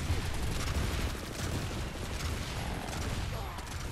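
Sniper gunfire in the PS4 game Planetside 2: a dense, steady wash of battle noise with rapid scattered gunshots throughout, moderately loud, with no clear talk over it.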